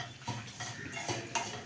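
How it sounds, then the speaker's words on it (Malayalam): A spoon stirs a blended milk mixture in a pan, making light scraping and clinking taps at an uneven pace, close and fairly quiet. "ഇതൊന്ന് ചെറിയ കളറൊന്ന് മാറണ വരെ നമുക്ക് ചെറുതായിട്ടൊന്ന് ഇളക്കിക്കൊണ്ടിരിക്കും"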